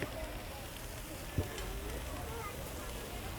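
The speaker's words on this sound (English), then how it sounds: "You can just add a little water to steam it, right?" Water poured into a hot pan sizzles and steams with a steady, low hiss and faint crackle, heard outdoors and fairly quiet, with one short knock partway through.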